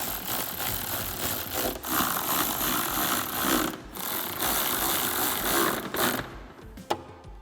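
A 3/8 power gun fitted with a 5/32 bit runs bolts into a Bronco cold air intake, whirring and ratcheting steadily up close with a few short breaks between bolts.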